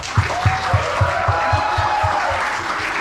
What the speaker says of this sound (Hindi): मैं आप लोग के लिए जोरदार तालियां मारना चाहूँगा सबके लिए.